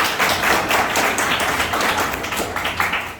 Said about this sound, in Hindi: ताली इतनी जोर से ना बजे कि बाहर तक किसी और को परेशानी हो